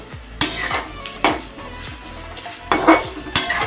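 Finely chopped onions frying on a high gas flame for chicken biryani, with repeated stirring, clinks of a utensil against the pan and a steady close sizzle, no voices.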